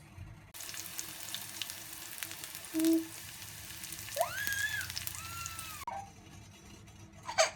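Mustard seed, cumin, red chili, onion and curry leaves sizzling in hot oil in a pan, a steady close crackle with a few clinks of a utensil against the pan, then a quieter tail.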